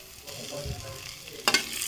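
Sliced onions sizzling and being stirred in a frying pan for an omelette, a soft close frying hiss with a brief louder scrape of the utensil near the end, no speech.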